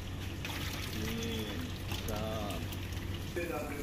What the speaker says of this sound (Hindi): अब टमाटर प्यूरी डाल देंगे